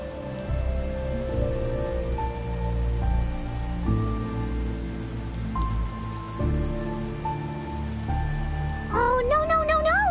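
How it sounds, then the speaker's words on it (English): Steady rain falling in the video game Wuthering Waves, a constant soft hiss of drops on surfaces under game music, with a brief electronic tone near the end. "when it rains like this, we hide."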